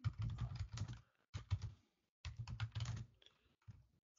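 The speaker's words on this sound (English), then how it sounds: "So I'm going to type root password in." Fingers type a root password on a computer keyboard in quick close bursts of clattering keystrokes separated by brief pauses, with no talking.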